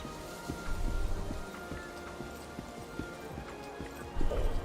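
Steady clip-clop of video-game horse hooves trotting at a regular rhythm over a soft rainy background, with faint voices murmuring in the distance.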